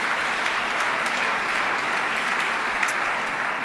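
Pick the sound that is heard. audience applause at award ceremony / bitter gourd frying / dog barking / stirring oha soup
audience applause at award ceremony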